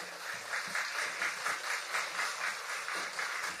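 Sustained applause from an audience at an indoor event, an even patter of many hands clapping at close to middle distance with no talk over it.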